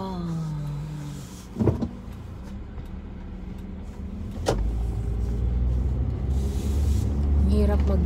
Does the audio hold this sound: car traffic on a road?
yes